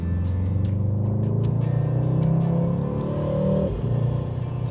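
A Mercedes-AMG GT 63 S 4-Door Coupe's 4-litre V8 rumbles steadily and loudly, its deep note climbing as the revs build, then dropping back before settling into a low idle.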